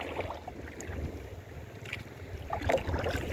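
Bangka boat paddled near a beach on a windy day, with steady wind and water noise and soft paddle splashes, louder toward the end.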